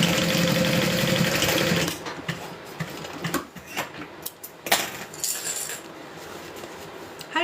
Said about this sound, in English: I'm just gonna stitch right over top of it.